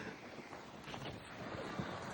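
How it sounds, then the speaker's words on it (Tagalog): Strong winter wind blowing outdoors in Hokkaido, a steady broadband rush buffeting close on the microphone, moderately loud and continuous with no talk. "Kusog ang hangin."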